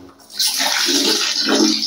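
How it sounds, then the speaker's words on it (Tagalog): Water gushes from a tap through a Stiebel Eltron electric water heater, a loud close steady rush that starts abruptly and keeps flowing. "Buksan natin yan yung tubig para lumamig yung coil."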